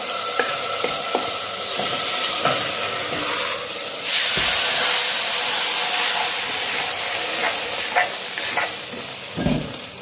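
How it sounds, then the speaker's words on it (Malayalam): Grated coconut and chillies dry-roast in a pan with a continuous hissing sizzle and repeated scraping stir strokes, close and fairly loud with no voices. "1 പിടി നാളികേരം കേട്ടോ ഒന്ന് വറുത്തെടുക്കുന്നു"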